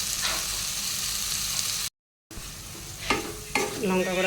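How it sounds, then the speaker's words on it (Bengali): Tomato with turmeric and chili powder sizzles steadily in a pan, broken by a short gap and then a few sharp stirring scrapes near the end. "হলুদ গুঁড়োটা কষিয়ে নিচ্ছি।"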